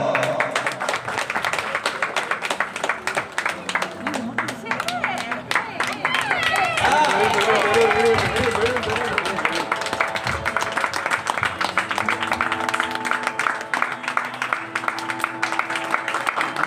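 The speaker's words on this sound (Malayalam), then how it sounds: "എടാ ചേട്ടന്മാർക്ക് നല്ലൊരു കൈയടി." A small gathering claps at a festive Shivaratri family celebration, the applause scattered and steady, mixed with music and lively talk over most of the stretch.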